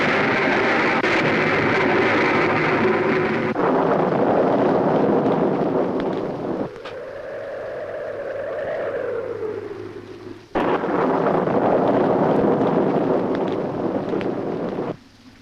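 Strong stormy wind roars loudly and steadily, with a softer whistling, rising and falling gust in the middle before the full roar returns and runs on to a sudden drop at the end.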